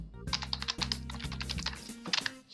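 Fingers type on a computer keyboard while text is entered in a CorelDRAW trifold template, producing a quick close run of light clicky keystrokes in short bursts over a faint low hum.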